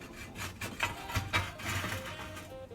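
An ash and coal shovel drags coals across a pizza oven deck, producing a close, rough scraping and grinding with a few sharper scuffs over about three seconds, with no talking.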